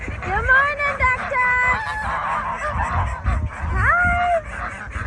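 Farm ducks give loud, nasal honking quacks in several drawn-out calls, close and repeated over a background of shuffling and babble, with a person calling out to them in between.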